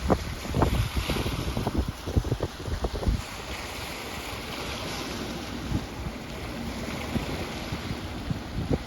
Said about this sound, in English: I like to hear the water.